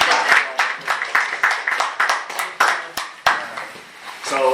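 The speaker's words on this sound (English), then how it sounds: "We'll do a clap." Audience clapping at a monthly East Union Township meeting in Schuylkill County, Pennsylvania: a small indoor crowd claps in a scattered, moderately loud burst of sharp hand claps, fading toward the end.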